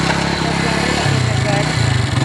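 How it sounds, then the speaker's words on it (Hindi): A motorbike engine kicks over and settles into a loud, close, throbbing run, the pitch stepping up partway through while someone talks over it. "तो अभी जी हम लोग बाइक करने लगे स्टार्ट"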